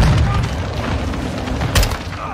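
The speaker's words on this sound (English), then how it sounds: "You're launching grenades! Grenades!" Grenade blasts in the Modern Warfare 2 campaign: heavy low booms roll through continuous battle noise, with a sharper loud burst near the end, all close and dense.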